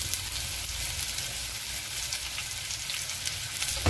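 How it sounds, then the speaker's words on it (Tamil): Onion frying in a pan with kasuri methi for palak paneer, making a continuous dense sizzle at an even level throughout with no talking. "ஆனியன் நல்லா வறுவடுக்கும்."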